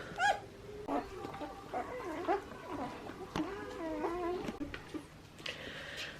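Newborn Great Dane puppies whimpering and squeaking in a whelping area, a steady stream of faint, thin, wavering cries from several pups, close and with no talk.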